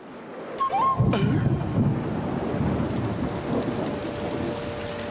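Steady rain pours down with a rumble of thunder near the start, the downpour continuing as a dense, constant hiss throughout.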